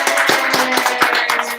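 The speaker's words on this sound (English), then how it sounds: "Spontaneous applause erupts" Audience members clap spontaneously at an in-person event, a few hands beating in a quick, steady rhythm for a moment.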